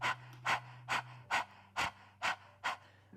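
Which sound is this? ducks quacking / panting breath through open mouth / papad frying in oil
panting breath through open mouth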